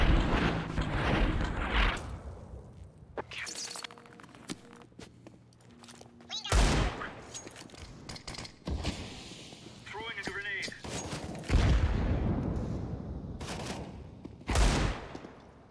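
Gunfire rings out during a CS:GO match: a few sharp, loud shot bursts spaced several seconds apart, with mechanical clicks and footsteps between them while people talk over the action.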